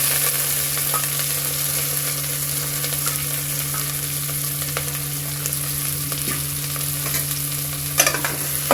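Onion, garlic and sliced green chilies frying with cumin in a little oil for a mixed vegetable dish, giving a steady close sizzle with occasional stirring scrapes and a low constant hum underneath.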